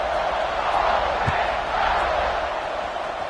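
A stadium crowd at a Texas A&M versus Miami football game roars steadily before the kickoff, a broad, sustained wash of distant cheering and noise with no clear break.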